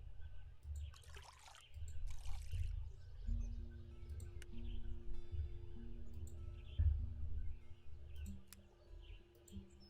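Watering plants in a cozy witch life-sim video game, a couple of soft splashy trickling bursts early on, quiet beneath gentle game music with tonal notes and faint chirps.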